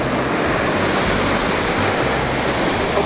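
Ocean waves wash against beach rock pools in a loud, continuous roar of surf and rushing water, steady throughout with a low rumble underneath and no voices.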